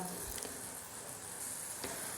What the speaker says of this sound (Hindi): हमने कढ़ाई में सरसों का तेल डाल दिया है